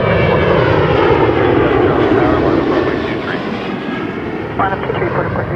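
A Caribbean Airlines airliner takes off from runway 23 at Toronto Pearson, a loud, steady jet engine roar that holds throughout and eases slightly toward the end.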